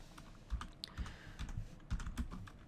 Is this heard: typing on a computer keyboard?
yes